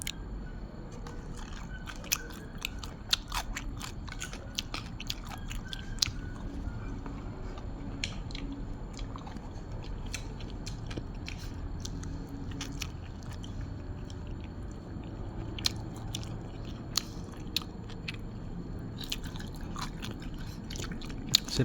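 Close, moist chewing and crunching of grilled rat eaten with Thai cucumber salad, steady mouth sounds with small crisp bites throughout, faint background noise and no talk.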